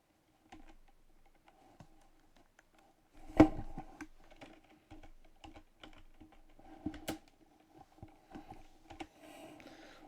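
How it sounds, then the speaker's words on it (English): ZX Spectrum keyboard keys clack while a player works through Green Beret, giving irregular light taps with a louder thump and scattered clicks over a quiet background. "we're playing this one with the keyboard, so you might hear a bit of clacking"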